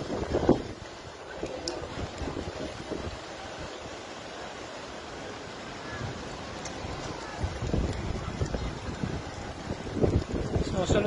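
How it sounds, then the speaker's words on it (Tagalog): Strong wind buffets the microphone at Niagara Falls, a continuous loud roar and rush that swells and gusts throughout, with faint voices barely present underneath. "Malakas yung hangin."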